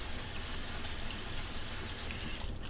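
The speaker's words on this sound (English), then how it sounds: "Turn on the water." Steady rushing water from a kitchen tap pours over cannellini beans in a drainer, a loud continuous broadband gush that holds evenly for the whole stretch and eases slightly near the end.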